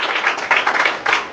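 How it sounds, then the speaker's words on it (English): An audience in an English-speaking class claps for a guest, a few uneven bursts of hand claps rising and falling close by, with no speech over them. "Please clap."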